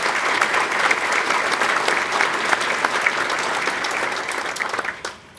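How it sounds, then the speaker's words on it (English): Steady, dense applause from an audience at a county luncheon event in Fairfield County, Ohio, loud and continuous for several seconds before tapering off abruptly at the end. "Let's give them a round of applause as well."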